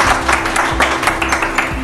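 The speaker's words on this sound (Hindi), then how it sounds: "इनके लिए बजनी चाहिए ताली, हमारे लिए नहीं" A classroom of students in a phone-repair class claps briefly, a short, dense burst of applause from a small group close by.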